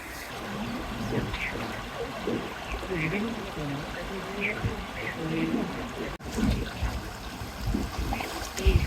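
Water flowing at a dam near Mohamaya Lake, a steady trickling rush heard under nearby people talking, with a brief dropout midway before the flow and chatter resume.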